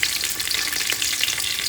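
Cashews, shrimp and sliced meat stir-fry in a pan for fried rice, a dense, continuous close-up crackling sizzle with faint stirring movement, brief and without talk.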